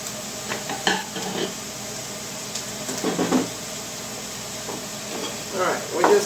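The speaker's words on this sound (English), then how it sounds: "we're just going to saute these down till they're nice and soft here" Red bell peppers and onions sautéing in a pan: a low, steady sizzle with scattered stirring scrapes and clinks, heard under a person talking through much of the clip.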